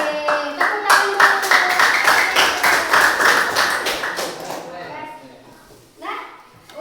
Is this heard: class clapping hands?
yes